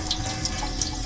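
Tap water runs steadily and close over a pumpkin being rinsed and cleaned by hand in a sink, a continuous splashing hiss with no talking.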